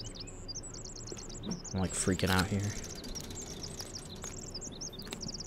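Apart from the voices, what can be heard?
birds chirping in the video game The Forest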